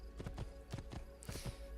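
Horse hooves clip-clop through the Assassin's Creed II video game in a busy town setting, a steady run of hoof strikes at moderate level over game ambience.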